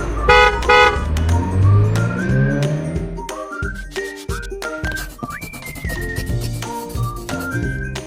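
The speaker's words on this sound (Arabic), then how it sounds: "كار سيارة" A car is heard with its horn tooting several times in varied bursts over engine and road noise, loud and close.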